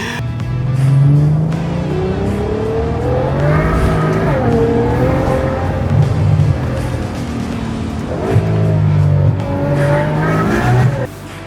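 A V12 car engine of about 800 horsepower revs hard and loud, rising and falling through several bursts of acceleration, close by with no talk over it.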